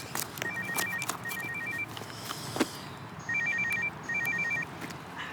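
A telephone rings in repeated double-burst electronic trills, two bursts early and two more after a pause, moderately loud over a quiet indoor room with light background rustle.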